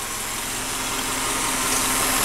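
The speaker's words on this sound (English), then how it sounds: "sounds like he has an exhaust leak. Sure does." A Subaru engine idles steadily up close with a rapid, ticking, puffing pulse from an exhaust leak ahead of the catalytic converter, a continuous rough drone throughout.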